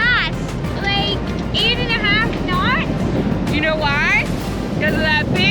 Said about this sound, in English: We are sailing on a beam reach.